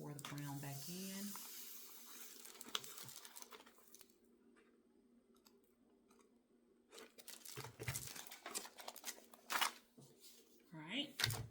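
Brown colored sand pours back onto paper for sand art, a soft granular hiss and rustle that swells in bursts and is interleaved with someone talking.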